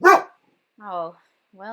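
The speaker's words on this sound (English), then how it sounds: "that was my dog" A dog gives a short bark followed by two whiny, tonal yelps spaced apart, close by, with a brief spoken interjection.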